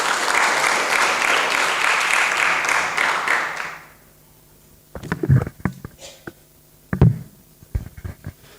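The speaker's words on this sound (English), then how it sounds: "Let us give him a big round of applause." An audience applauds at a college poetry and book review competition, dense clapping held for about four seconds and then cut off, followed by scattered knocks and taps in a quiet room.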